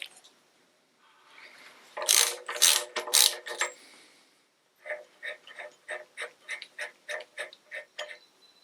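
A ratchet loosens a nut on the rocker assembly of a Triumph Herald 13/60 engine, first in a burst of rapid clicking and then in a steady run of about a dozen evenly spaced, close, crisp ratchet clicks.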